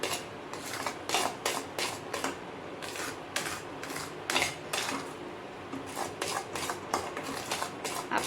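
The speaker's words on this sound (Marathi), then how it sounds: "स्लो गॅसवरतीच आपण हे छान असं मिक्स करून घ्यायचं आहे" Spoon scraping and clinking in a pan over low flame while cashew modak mixture is stirred continuously, soft repeated metallic strokes in an uneven rhythm.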